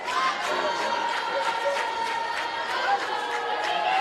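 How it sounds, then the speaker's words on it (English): Lions bench at a college volleyball match in a gym, a crowd clapping and cheering steadily, a dense continuous roar of voices and claps at moderate distance. "The Lions bench has a good clapping cheer right there, getting into it, trying to hype their side of the net up."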